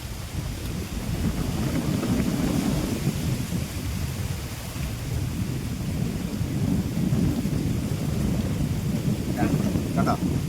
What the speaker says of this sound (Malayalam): ഇപ്പം മഴ മഴയായിപ്പോയി കണ്ടോ മഴക്കാർ ഇതിൽ നല്ല കോളും